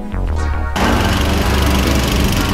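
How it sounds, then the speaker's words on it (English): Lawn mower engine droning steadily while mowing stripes into grass, a loud continuous hum close by that starts after a brief lower-pitched moment and holds level throughout. "Just make sure that when you're mowing, you don't back up."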